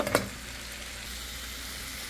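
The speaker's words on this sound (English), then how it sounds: "let these vegetables simmer in here with the brown chicken" Browned chicken and vegetables simmer in a pan for a spaghetti sauce, giving a steady, soft bubbling sizzle after a brief stirring clatter at the start. It stays close and even, with no voices.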